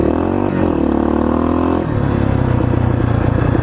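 A Yamaha XT600 motorcycle ridden on a bush road, its engine loud and close in a continuous drone whose pitch shifts as the rider changes speed, with wind noise and no talking.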